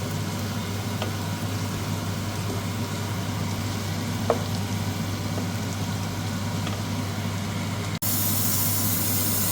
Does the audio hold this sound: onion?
yes